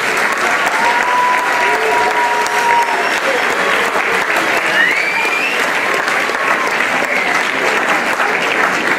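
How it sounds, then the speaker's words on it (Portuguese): Loud, continuous applause from a large audience honoring students at an awards ceremony, a thick even roar of clapping with faint whoops and voices woven through it for the full duration. "Para eles todos, uma grande salva de palmas."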